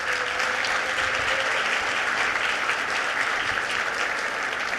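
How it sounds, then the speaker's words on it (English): A full conference audience gives a round of applause, an even, continuous roar of many hands clapping that holds steady at one loudness from start to finish with no voices. "Let's give them a round of applause."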